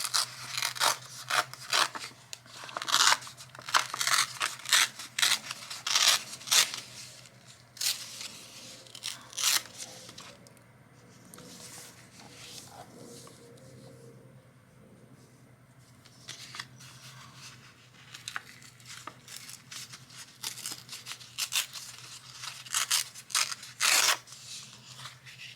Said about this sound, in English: Tearing that paper.